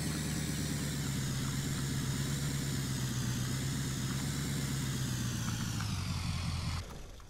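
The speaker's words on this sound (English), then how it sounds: "It's a rather loud engine here," A loud, steady engine in Farming Simulator 17 runs continuously at a constant pitch, then cuts off abruptly near the end.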